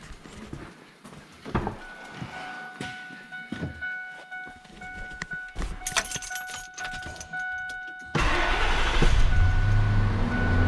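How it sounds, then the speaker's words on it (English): Keys jingle and a dashboard chime rings steadily, then a 1998 Ford F150 4x4 pickup truck engine cranks and catches, settling into a loud, close rumbling idle. "So let's go start the truck again."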